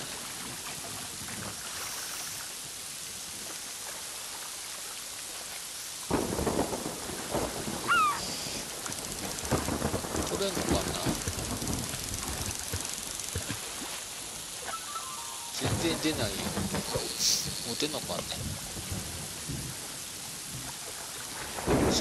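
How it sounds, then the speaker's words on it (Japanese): Thunderstorm in the video game Yonder: heavy rain hissing with rolling thunder bursts arriving in two loud waves after a quieter start, with a voice speaking briefly over it. "すごい嵐になってるんですけど、ちょっとまずいんじゃないのか。"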